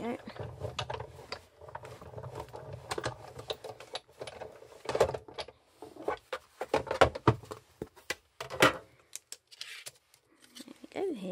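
A hand-cranked die-cutting machine rolls a card through for a Mother's Day wreath card, giving rapid clattering, clicking mechanical bursts in uneven runs with short pauses between.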